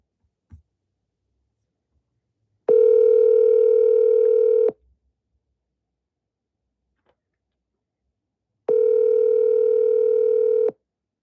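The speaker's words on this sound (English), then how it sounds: "Phone is ringing." Two long electronic phone rings, each about two seconds, separated by a silent pause, clear and close with nothing else around.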